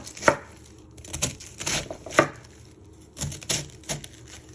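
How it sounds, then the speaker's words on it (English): A knife chops food into pieces for Italian beef soup, landing in sharp, close knocks on a cutting board in an uneven rhythm of about a dozen strokes with short pauses between bursts. "then you just want to slice it into pieces"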